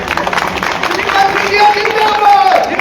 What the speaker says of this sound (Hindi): इसके लिए महाराज साहब की तालियां तो बजाएं जरा